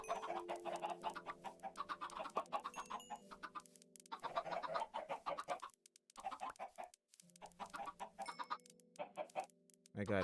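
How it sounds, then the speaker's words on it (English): Chickens on a Minecraft farm cluck in repeated bursts through most of the stretch, loud and close, with a few brief pauses and no talking over them. "I got a good chicken farm going"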